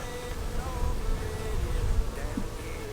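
Honeybees buzzing close around the hands during a late-season hive inspection, a continuous droning hum at moderate loudness.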